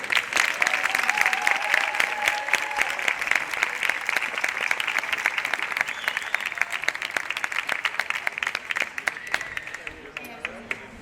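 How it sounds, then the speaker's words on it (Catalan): Audience at a choir concert during a neighbourhood festival in Barcelona's Eixample breaking into sustained applause, dense crisp clapping from many hands that holds steady and thins slightly toward the end, with faint voices underneath. "Un fortíssim aplaudiment"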